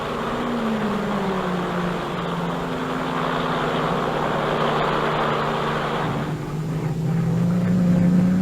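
Racing cars at the 1957 Sebring 12 Hours in Florida, including a small Renault, roar past in a steady, loud engine drone with a rising whine toward the end, with no talk.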